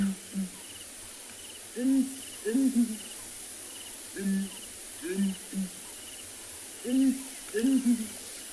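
Hornbills call in a duet on a morning safari in South Africa, repeated deep hooting pairs at a moderate distance with steady insect chirring behind them.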